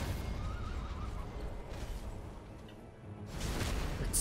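A horse neighs and whinnies at a moderate distance in Elden Ring combat amid game-like ambient rumble, followed by a brief whoosh near the end.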